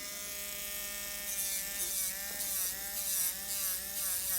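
Electric nail drill filing the tip of a gel nail extension, a steady high-pitched whine with a wavering tone as the bit presses against the nail, close and alone.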